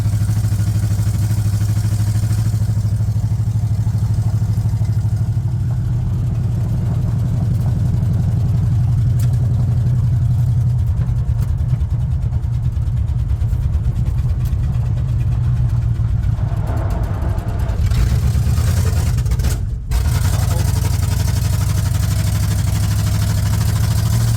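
A loud, raw engine idling close by in a 1969 GMC truck running headers with no exhaust, a rough steady rumble with clattering mechanical noise and a brief dip near the end.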